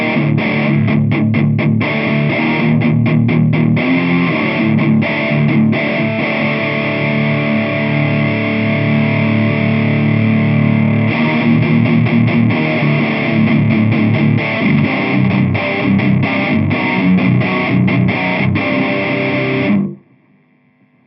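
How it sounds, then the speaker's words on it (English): An electric guitar played through a Black Cat Djentonic distortion pedal with the gain turned fully up into a Swamp Thang speaker, producing loud, thick, heavily distorted chugging riffs with rhythmic palm-muted stops, ending in sudden silence. "I've got a little bit of hiss coming now because I've cranked the gain up full"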